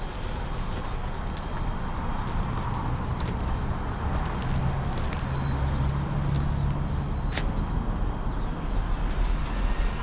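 Steady rumble of a train engine pulling carriages on a ride, a continuous low drone with faint clacks and rattles, fairly close, with no talking.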